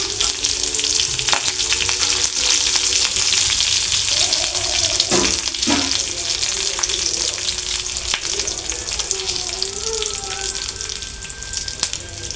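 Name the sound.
garlic, dried chillies and curry leaves frying in oil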